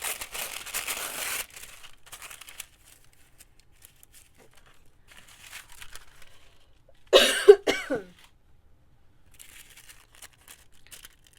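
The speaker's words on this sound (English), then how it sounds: "Excuse the coughing in your ear." One loud, close cough stands out after soft crinkling and rustling of paper, with long quiet gaps between the sounds.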